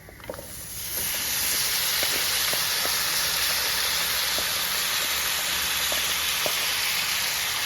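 Loud, continuous sizzling erupts about a second in as boiled jackfruit seeds hit a hot pan, steady hissing with a few small pops and clinks.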